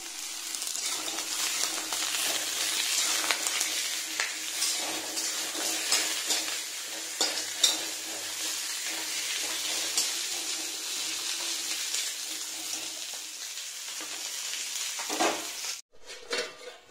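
Fish fat frying in a pan in a home kitchen, a long steady sizzle with scattered clinks and stirring scrapes, moderately quiet, ending in a brief clatter.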